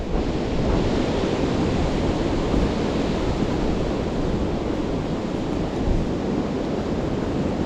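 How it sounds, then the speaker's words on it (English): Strong wind roars continuously across open countryside on a walk, a dense, steady rush that buffets the microphone without a break. "Wind's picked up again, as you can hear."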